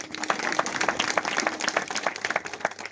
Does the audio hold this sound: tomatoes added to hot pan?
no